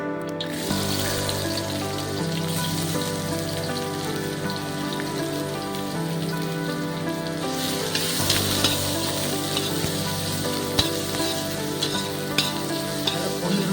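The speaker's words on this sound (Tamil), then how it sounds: "இப்போ வெங்காயம் நல்லா வதங்கிடுச்சு" Chopped shallots sautéing in hot oil with whole spices for a roadside-style parotta salna, a dense continuous sizzle like rain on a surface, close and steady with occasional stirring scrapes.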